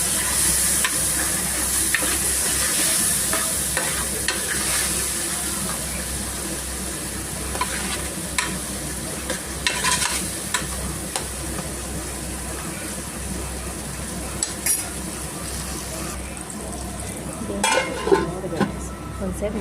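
A fish curry base of tomato fries in a pan with a steady, fairly loud sizzle throughout, broken by occasional spoon scrapes and clinks, with no talking.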